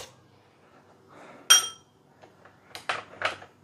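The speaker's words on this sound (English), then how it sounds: "Then you use a spoon." A metal spoon clinks against a bowl while pressing and stirring a Shaoxing wine marinade for Hakka deep-fried pork belly. A sharp clink stands out, then a few softer scrapes and two more close, bright taps, with no talking.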